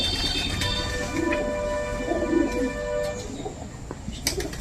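Pigeons coo steadily in a breeder loft of large birds raising young, the soft repeated calls close and overlapping throughout, with faint chirps mixed in.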